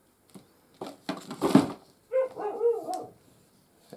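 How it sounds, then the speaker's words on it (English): A household dog barks several times in quick succession, close and fairly loud, during the unboxing of a Sebo Automatic X7 Pet vacuum, with a few soft handling noises just before. "Excuse my dog barking there."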